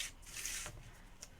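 A paper trimmer slices through cardstock while a notebook pouch is made, a quiet brushing cut followed by a faint click near the end, close by and soft.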